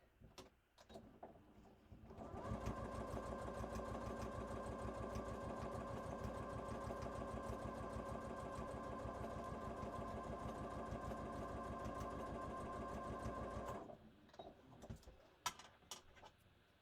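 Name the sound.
sewing machine top stitching a bag edge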